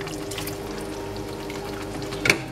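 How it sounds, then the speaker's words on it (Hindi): Water is poured into a blender jug to rinse it out, giving a continuous steady flow that ends in a brief louder splash near the end. "अब इसके अंदर थोड़ा सा मजीद पानी डालूंगी जग साफ करने के लिए।"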